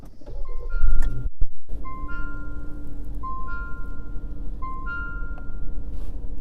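A 2017 Jeep Compass starts up, with a brief pause and then a steady low engine idle that carries on under repeated electronic chime tones, close by and with no talking.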